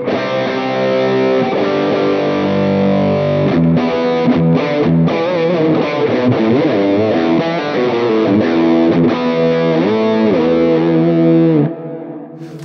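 High-gain distorted electric guitar rhythm patch from a Line 6 Helix preset, playing sustained chords and riffs with a full, saturated tone, loud and continuous throughout before cutting off near the end.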